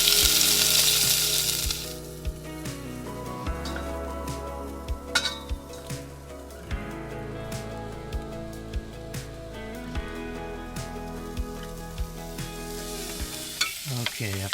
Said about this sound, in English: I've cooked these carrots and celery off a little bit.